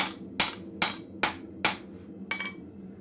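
A blacksmith forges hot metal at the anvil in a blacksmith shop, using a small, odd-shaped hammer. Five loud, ringing strikes land close by at an even, steady rhythm, followed by a lighter sixth blow, with no talking.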